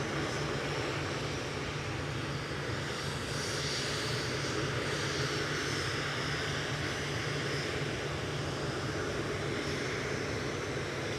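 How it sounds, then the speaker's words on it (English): A Eurowings Airbus A319 taking off from Manchester Airport for Dusseldorf, producing a continuous, even jet roar at a distance with a low hum beneath and no clear peak or pause. "Eurowings lined up and ready to go to Dusseldorf."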